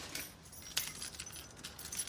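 A bunch of car keys jangles, with light metallic clinks and rattles in quick irregular bursts, close and fairly quiet, and no one speaks.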